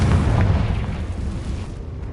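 A Confringo spell from the Hogwarts Legacy video game explodes in a deep, rumbling blast that fills the moment and then slowly rolls off, with no voices over it.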